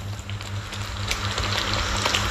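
A steady low bubbling and simmering with faint crackles of rasam boiling in a pot, continuous and close, with no voices.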